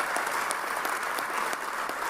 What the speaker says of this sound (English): Yes, another round of applause.